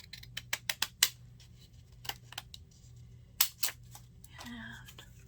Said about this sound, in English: Get my deckle edge scissors.